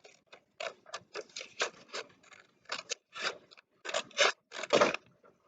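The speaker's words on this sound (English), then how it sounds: "now I'm ready to cut out my project" Scissors cut out paper pictures for a school project, close and fairly quiet, a series of short crisp snips in uneven bursts with brief pauses between them.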